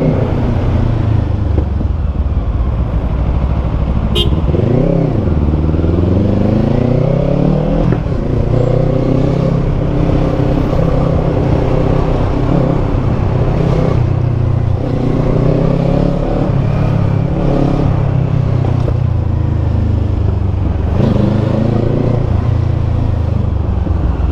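A 2024 Kawasaki Eliminator fitted with an Akrapovic exhaust is ridden hard, its engine rising through several revving pulls and gear changes, loud and continuous under steady wind rush.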